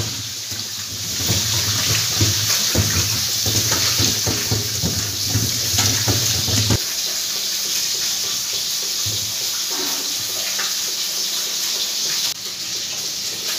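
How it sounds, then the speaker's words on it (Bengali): Tap water runs steadily while small fish are washed by hand, a close, constant splashing stream with faint handling knocks; the heavy flow cuts back midway to a softer trickle that carries on to the end. "এখন মাছগুলো আমার শাশুড়ি মা ভালো করে ধুয়ে নিচ্ছে"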